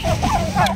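A domestic turkey kept beneath shade trees gives a short, close, throaty gobbling call, a quick wavering burst of rattling notes lasting under a second.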